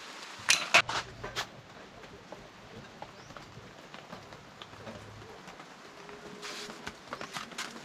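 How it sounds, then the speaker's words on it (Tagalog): Light rain falling outdoors in a rural setting, a steady soft patter with a few sharper nearby drips and taps, continuous and fairly quiet with no voices. "Kaso lang medyo nag-uulan."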